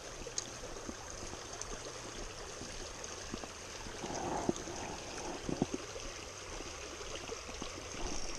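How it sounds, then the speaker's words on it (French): A small brook runs in a steady, soft babble of trickling water outdoors, faint and continuous, with a few light knocks and splashes over it and no talk. "pêcher des petits ruisseaux comme ça"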